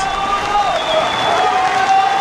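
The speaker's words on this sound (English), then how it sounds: "French fans are cheering him on." French spectators at a canoe slalom World Cup course in Pau cheer a racer, a steady, dense wash of crowd noise with whistles and shouts from a distance, holding loud throughout.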